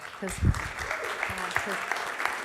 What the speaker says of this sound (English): let's give Derek a round of applause